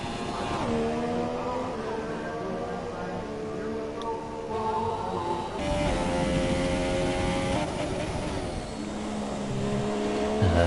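An F2 race car engine screams steadily through a flying lap in a racing video game, its high harmonic whine shifting pitch with gear changes and throttle, close and loud throughout.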